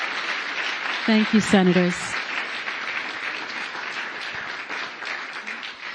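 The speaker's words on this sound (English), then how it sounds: "how about we have another round of applause for the first panel?" Sustained audience applause for a panel of U.S. senators at a COP 28 climate event, steady and moderately loud throughout, with someone briefly speaking over it.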